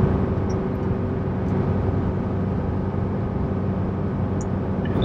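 A 2019 Chevy Colorado ZR2 Bison pulls a trailer up a hill, its engine droning in a steady, heavy cabin hum as it accelerates after downshifting on cruise control.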